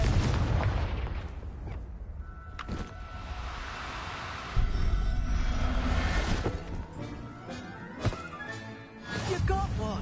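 Explosive spell blasts in Hogwarts Legacy, heavy booms and bursts scattered over a rumbling game soundscape, with a voice talking throughout.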